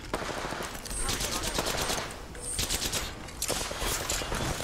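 Rapid bursts of Apex Legends gunfire rattle continuously, automatic fire in several waves over a dense, noisy background.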